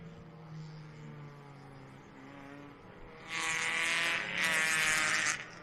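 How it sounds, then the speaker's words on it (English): Hyundai Excel race cars pull away from the dummy grid at CARCO Raceway, a low engine drone building into loud, raspy revving from several cars at once that swells and holds near the end. "we have all of the cars leaving the dummy grid right now"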